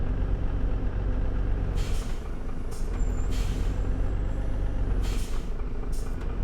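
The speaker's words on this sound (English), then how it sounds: "as you can see, the sound of the vehicle sounds good, you know" A large port equipment vehicle in Port Logistics Simulator on PlayStation 5 rumbles with a low engine drone while several sharp air-brake hisses burst out at intervals, close and steady, no voices.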